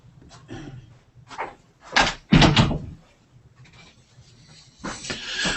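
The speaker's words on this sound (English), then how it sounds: "gonna close my door" An office door is pushed shut with a few knocking bumps and a firmer closing thud near the middle, followed by quiet and a last rattle, with no talking.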